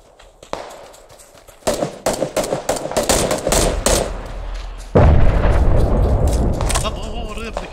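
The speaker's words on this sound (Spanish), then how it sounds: "¿Están tirando granadas?" Rapid gunfire and explosions in the battle royale game PUBG play in dense bursts of sharp cracks, growing heavier midway with a deep booming blast, loud and close, while players talk over the action.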